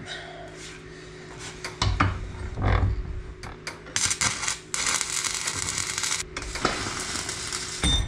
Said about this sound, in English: So we'll weld them up.